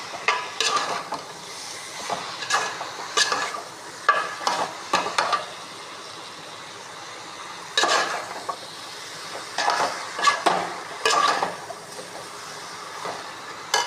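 Masala sautéing in a pan for pepper chicken gravy gives bursts of scraping and stirring with frying sizzle, in irregular clusters separated by quieter stretches of low hiss.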